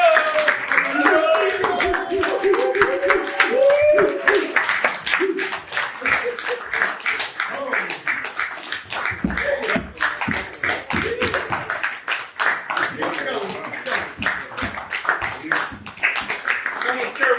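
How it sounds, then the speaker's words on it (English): A group clapping in a steady rapid rhythm at a manhood academy rites of passage graduation ceremony, sustained for many seconds with loud voices shouting and talking over it. "Keep clapping."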